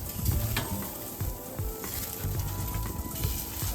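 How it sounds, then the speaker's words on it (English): Shrimp and steak sizzle and crackle on an RV grill over direct flame, a steady close frying hiss with scattered pops and light scraping throughout. "Time to get those shrimp off the direct flame so we don't overcook them."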